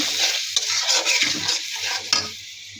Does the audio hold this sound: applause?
no